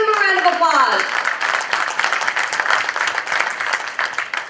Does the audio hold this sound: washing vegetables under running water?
no